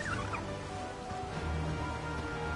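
A bird mount in the video game Final Fantasy XVI lets out a brief gobbling call near the start, faint and quickly fading under steady game ambience and background music.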